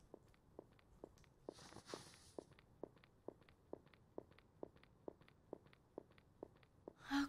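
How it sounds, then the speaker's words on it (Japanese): Steady footsteps in a Japanese horror game about fleeing an intruder, around a dozen evenly spaced thuds walking at a regular pace, with a brief hiss in the middle and a sharp sound at the end. "足音するんだから。"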